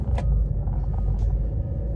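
A car idles behind a parked vehicle, giving a low, steady engine rumble that stays close and constant for the whole two seconds, with no talking over it.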